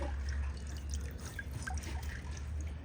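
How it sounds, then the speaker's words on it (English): Water drips and trickles off an orchid as it is lifted out of a container of water, a run of faint close drops over a low steady background hum. "I'm gonna get this out of the water"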